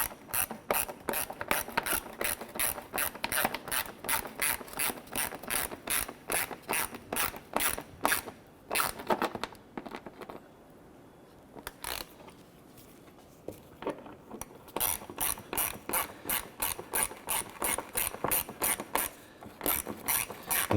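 A hand ratchet snugs down knock sensor screws on a 2006-2013 Chevrolet Impala engine, giving long runs of fast, crisp, close clicking, briefly pausing midway before the steady clicking resumes with no talking.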